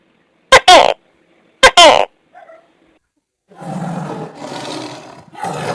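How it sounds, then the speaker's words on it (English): A camel calls with two loud, rough, roaring bellows in quick succession, then a quieter grunt, followed by a longer, raspy, gurgling groan in several bursts. "camel"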